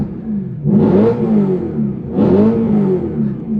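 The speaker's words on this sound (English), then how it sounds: "Man, that V8 is screaming." Heard from inside a BMW E92 M3 with the windows up, the V8 engine revs twice, each burst climbing sharply and then falling back to a muffled idle.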